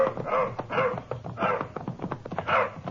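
An injured dog in a 1951 Texas Rangers radio drama gives a run of yelping, whimpering barks, about four strained cries in uneven rhythm, close and clear with no talk over them.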